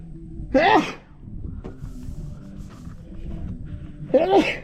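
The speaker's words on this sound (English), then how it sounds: "the sun's bright making me sneeze" Two sharp sneezes, one near the start and another near the end, close by with a quiet stretch of low background noise between them.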